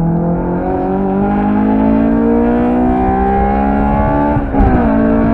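Engine of a 2ZZ-powered Toyota MR2 Spyder driving an autocross course, a loud, steady drone with rising and falling revs as it accelerates and shifts, heard close and continuous with no talking.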